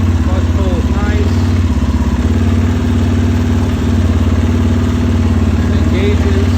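A motorcycle fitted with a Midwest Mountain Engineering clutch lever starts and runs in gear. Its engine idles loud and close with a steady, throbbing chug throughout, and a voice is faintly present under it.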